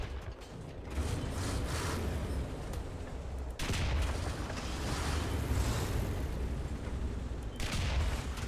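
Tank cannon and machine-gun fire in War Thunder, a few heavy booming shots over continuous rumbling engine noise and battle clatter, loud and close.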